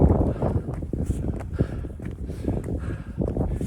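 Wind buffeting a phone microphone on a cold, windy hike up Skiddaw via Ullock Pike in the Lake District, a loud continuous rumble with gusting bursts and no talk.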